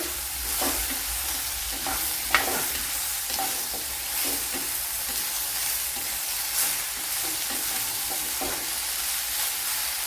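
Okra sautés in a pan with a continuous bright sizzle, broken by repeated scraping and stirring strokes of a utensil at an uneven rhythm, close and fairly loud with no talking.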